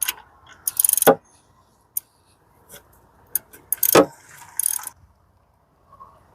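Ratchet clicking while a stainless steel oil drain bolt is tightened on a 2004-2010 BMW X3 E83 with a 2.5 or 3.0 engine, a few short bursts of sharp metallic ratcheting separated by quiet pauses and small taps.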